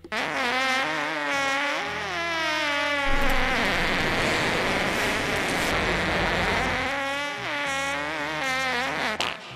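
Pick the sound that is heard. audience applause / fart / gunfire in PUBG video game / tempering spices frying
fart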